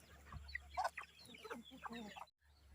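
Native chickens on a small backyard farm cluck faintly and irregularly over a low background hum, with a few brief calls in quick succession.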